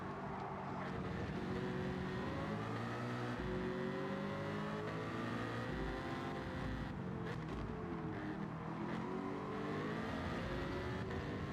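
A race car with a swapped engine in Gran Turismo 7 drones and whirs steadily under acceleration, its pitch sliding through gear changes at moderate, even loudness, with no voices.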